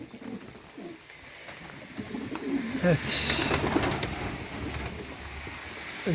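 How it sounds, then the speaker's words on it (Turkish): Adana pigeons coo repeatedly at close range, their soft, throaty calls swelling louder midway, while a person speaks briefly over them. "Çünkü dişi de ötüyor, erkeği de ötüyor."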